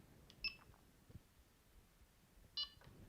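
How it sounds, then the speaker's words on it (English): Two short electronic beeps from a Txi-D metal detector, roughly two seconds apart, faint against a quiet hiss. "It gave a little beep."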